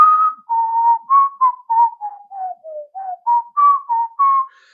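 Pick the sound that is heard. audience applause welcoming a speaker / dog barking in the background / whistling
whistling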